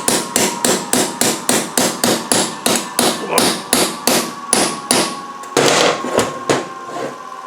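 A hammer strikes a metal punch to drive out a bolt on an Adwest four-bolt steering part, with loud, sharp metallic blows in a steady rhythm of about two per second, about seventeen strikes in all, close up and without speech.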